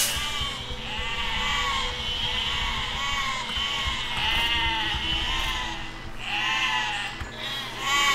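Sheep in the Besiege game bleating repeatedly, a run of about half a dozen wavering baas in close succession, fairly loud and near, over a low background hum.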